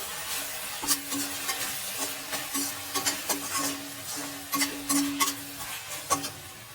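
Tomatoes and vegetables sauté in a pan for vegetable rice, giving off a steady sizzle broken by irregular scraping and clinking as a spoon stirs them. The sound is close, with no voices.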